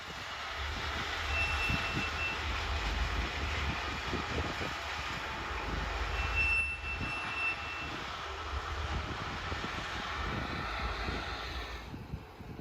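A work train dropping ballast from rail cars at a Brightline construction site near CP Melbourne gives a faint, continuous rumble and rattle of stone pouring, with steady rolling noise throughout.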